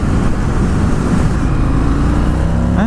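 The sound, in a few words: 2020 Indian FTR 1200 motorcycle engine accelerating in top gear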